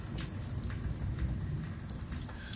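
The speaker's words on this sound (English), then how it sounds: "it's been raining, like pouring down rain" Pouring rain outside a porch, a steady dense hiss with scattered drops and splashes, continuous and moderately loud, with no talk.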